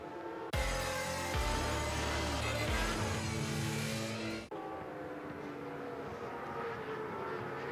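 Racing sidecar engines at Assen roar loud and close, a harsh revving blare with shifting pitch that cuts off and drops to a steadier, more distant engine drone for the remaining seconds.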